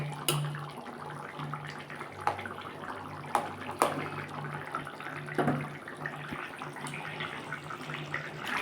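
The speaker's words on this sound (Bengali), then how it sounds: "একটু ফুটুক মাছে একটু ঝোলটা ঢুকুক" Tilapia fish broth with kohlrabi and potato bubbling in a pot, a steady soft watery simmer with a low hum and occasional small pops and clicks, no voices.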